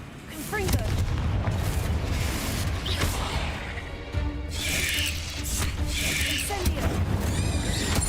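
A Confringo spell explosion in a wizarding video game, a booming blast with rumbling low end amid layered game sound effects, continuous and loud, with a voice speaking over it.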